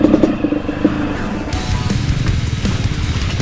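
A motorcycle engine runs steadily at close range, with a low continuous rumble and slight changes in revs throughout.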